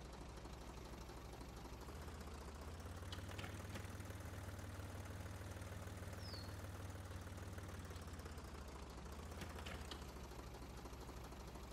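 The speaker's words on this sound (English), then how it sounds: "Wait, why is my tractor shutting down?" A tractor engine idles in a farming simulator video game, a steady low rumble with a knocking pulse running the whole time. A brief higher chirp and a couple of faint clicks sit over it. No one speaks.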